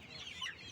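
A brief, soft clucking from black country hens, heard on its own without talk.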